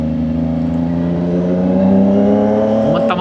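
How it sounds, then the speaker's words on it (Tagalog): A CF Moto 675NK motorcycle with a loud, noisy exhaust runs close by, its engine droning steadily with a low throbbing note and a slight rise in revs partway through. "Maingay lang motor natin."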